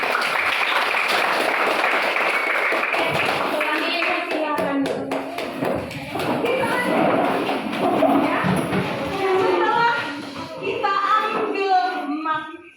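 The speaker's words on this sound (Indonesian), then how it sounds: "Tepuk tangan untuk kita" Children clapping together in a classroom, a dense burst of applause up front that breaks into scattered claps mixed with kids' voices and chatter.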